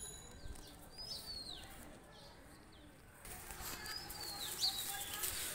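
Pakistani high flyer pigeons give soft coos with occasional bursts of wing flapping, faint and close, repeating in short calls over a quiet background, no talking.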